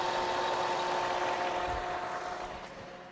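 A 2004 Cadillac SRX engine idling steadily under the hood during mass airflow sensor cleaning, a close, even, continuous drone with a faint tonal hum, slowly easing in level toward the end.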